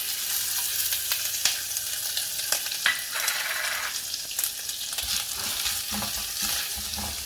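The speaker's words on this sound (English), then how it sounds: "And I'm going to roast the coconut first." Grated coconut, defrosted from frozen, roasts in melted ghee in a pan for a Kerala ada pradhaman dessert: a steady close sizzle and crackle with scraping stir strokes throughout, no talk.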